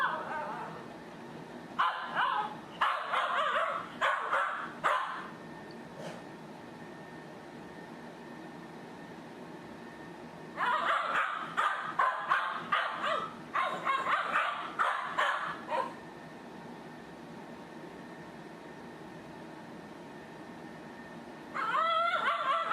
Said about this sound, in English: it can cause dogs to yelp or scream and progress to paralysis